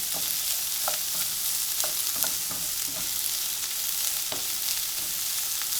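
Tempeh frying with finely chopped onions and ginger for kouseband, stirred with a steady run of soft scraping strokes over a constant hiss of oil, close and even.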